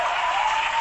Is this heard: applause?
yes